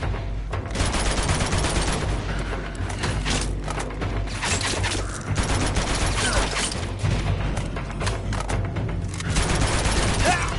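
Sustained rapid gunfire in a PS4 shooter, loud and unbroken, with heavy overlapping bursts and booming low thuds across the whole stretch.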